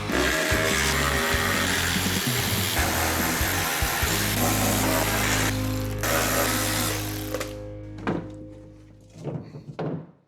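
On a Ford F-150, a power tool runs loudly and steadily while it drives out a T30 hex-head bolt holding the inner tailgate skin. The motor winds down near the end, followed by a few faint clicks and knocks.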